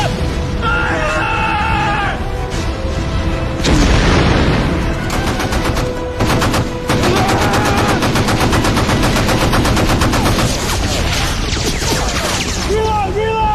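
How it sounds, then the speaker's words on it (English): Rapid, continuous machine-gun fire rages through a naval battle scene in a war film, sustained bursts dense and loud with shouting voices and screams mixed underneath the clatter. "Repeat rapid continuous fire to the shoreline."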